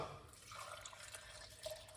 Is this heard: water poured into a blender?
yes